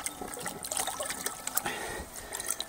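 Water runs through a part of a Hozelock Bioforce Revolution pressurised pond filter and into a bucket. It makes a close, continuous trickling and splashing with uneven gurgles and drips.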